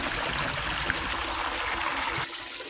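Stream water rushes steadily through a gold panning sluice, a constant close hiss and gurgle that dips slightly in level near the end.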